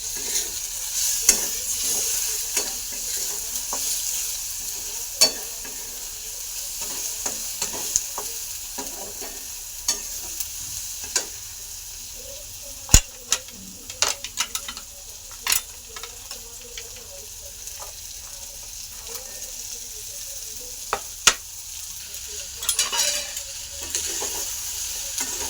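Radish pods sautéing with turmeric and homemade masala in a pan, a steady close sizzle broken by frequent sharp spoon scrapes and clicks against the pan throughout.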